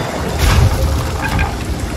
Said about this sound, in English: Bloody wave smacked right into us.